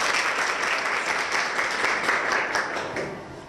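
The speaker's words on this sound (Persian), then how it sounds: "بسیار عالی، تشویق کنیم اینا." Audience applause at a Persian-language mental health program about stress, a dense, steady wash of many hands clapping that stays loud throughout and eases off slightly at the end.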